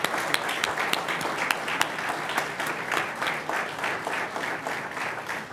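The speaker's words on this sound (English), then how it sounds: "You deserve an applause." An audience at a fire academy graduation ceremony claps steadily for instructors and family supporters, a dense, sustained round of applause filling a large room from start to finish with a few sharper individual claps standing out.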